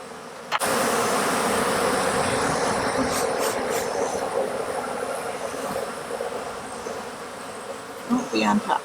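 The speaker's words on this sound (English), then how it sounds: "There's still bees on there." A swarm of bees buzzes loudly and continuously up close during a swarm capture, a dense steady drone filling the clip with a few brief knocks near the end.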